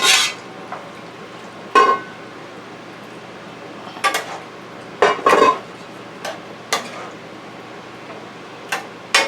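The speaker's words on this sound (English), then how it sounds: "now I'm going to add the cubed beef, onions, and dried tomatoes" Cubed beef, onions and dried tomatoes tipped into a pressure cooker pot: a handful of sharp clinks and clatters of utensil against metal at irregular intervals, with quiet stretches between, close and fairly loud.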